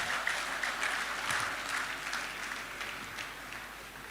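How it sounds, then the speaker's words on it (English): An audience gives a round of applause for honored guests, steady soft clapping that carries evenly through the hall and tapers slightly toward the end. "please, a round of applause to them"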